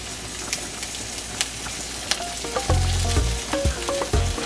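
Raw shrimp sizzle and crackle steadily in a hot pan, with stirring clatter and utensil scrapes joining partway through.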